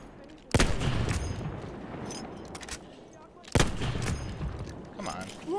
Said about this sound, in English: And a machine gun